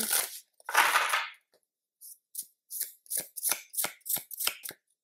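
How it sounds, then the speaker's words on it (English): A tarot card deck is shuffled up close. Two longer riffling bursts are followed by a quick run of crisp, rhythmic card slaps and taps, loud and clear with short silences between. "I'm gonna shuffle it again"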